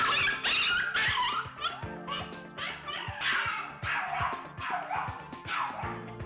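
A dog barking and yipping in excited bursts throughout, close and loud, with the agitated, frantic barking of a dog that reacts aggressively when it sees another dog.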